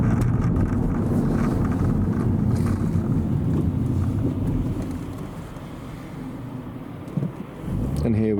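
A Vauxhall Zafira car driving on roads near Gatwick, a steady low road and engine rumble with wind noise, heard from inside the cabin, easing slightly toward the end.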